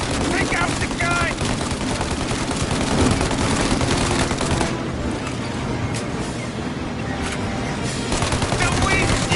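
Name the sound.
gunfire shooting out windshield, video game Mafia Definitive Edition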